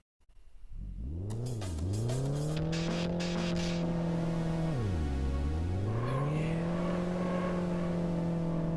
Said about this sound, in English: Oh god, this car's so slow.